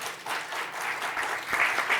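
Audience applause following a retail industry panel discussion: a steady wash of clapping from a seated crowd, moderately loud and unbroken, swelling slightly toward the end.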